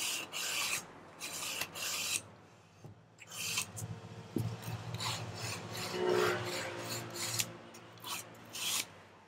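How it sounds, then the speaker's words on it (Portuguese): Hand sandpaper rasps back and forth along the rough cut edge of an MDF tea box in close, rhythmic strokes, with short pauses between passes and no talking. "eu vou terminar de lixar aqui e por fora também"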